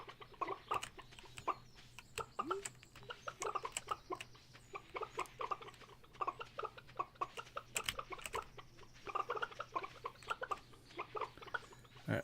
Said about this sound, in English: Make all the chickens make chickeny sounds.